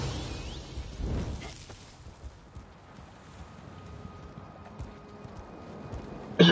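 A horse's hooves clip-clop in the Elder Scrolls Online video game, a quiet run of light rhythmic steps close by over a soft background, with a brief swish early on.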